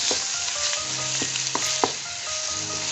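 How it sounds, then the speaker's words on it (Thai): Minced pork stir-fries with snow peas in a hot pan: a continuous loud sizzle with scraping spatula strokes and a few sharp knocks, close up. "ใส่หมูสับได้เลยค่ะ สุก"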